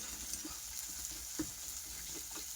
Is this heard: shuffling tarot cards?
no